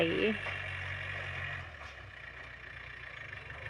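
A tractor engine drones low and steady across a rice field, a distant rumbling hum that eases off about halfway and continues more faintly.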